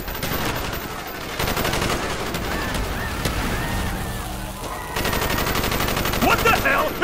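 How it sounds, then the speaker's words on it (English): Rapid automatic gunfire from a Call of Duty Black Ops street battle, dense bursts of shots rattling loudly and almost continuously, with a short lull before the firing resumes, shouted voices mixed in. "Bowman, Carlos, lay down covering fire."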